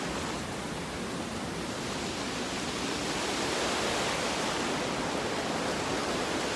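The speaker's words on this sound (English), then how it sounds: "Cool little creek." A small creek flowing beneath a footbridge on a woodland loop trail, a steady, loud broadband rush of running water that holds even throughout, with no voices.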